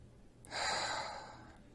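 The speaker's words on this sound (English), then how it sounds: "Put your hand on your chest, put your hand on your belly button, and take a breath." A single deep breath drawn in during a breathing exercise, done with one hand on the chest and one on the belly: one close, airy inhalation lasting about half a second, then tapering off, with no speech.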